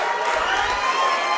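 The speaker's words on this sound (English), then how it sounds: "Crowd absolutely ecstatic for him." A boxing crowd at a hybrid boxing bout cheers and roars loudly and continuously, a dense wall of excited shouting that swells slightly in the middle.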